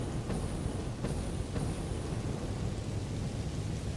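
Steady rain hiss with faint rumbling thunder in the factory-building game Satisfactory, a dense continuous wash of noise with no talking.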